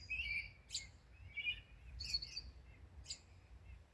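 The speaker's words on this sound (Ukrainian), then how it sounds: "Пташки співають, квіти квітують, дощик пішов." Birds chirp and tweet in short bright bursts over a low background rumble, several calls spread across the clip, moderately close, in a village flower and vegetable garden just after rain.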